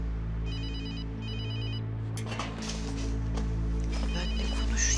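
A telephone rings with an incoming call, two short bursts of electronic trilling heard clearly over a steady low room hum, followed by faint movement and rustling.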